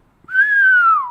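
A person whistles a melody: one clear, close tone that climbs slightly, holds, then slides downward over about a second, heard alone.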